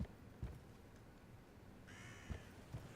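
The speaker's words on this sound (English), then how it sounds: "the moment I hear a crow, I'm like, my spirit animal is calling me" A crow caws in the video game The Occultist, a harsh, moderately loud call near the end over a low murky ambience, with a few dull thumps earlier.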